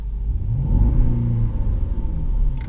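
A Jaguar XF 5.0 V8 S engine turns over and settles into a deep, throaty rumble with a brief rev, loud and close, no voices.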